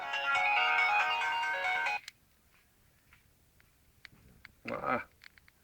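A telephone ringtone plays loudly and steadily for about two seconds, then stops; after a quiet pause come a few faint clicks and a brief burst of noise.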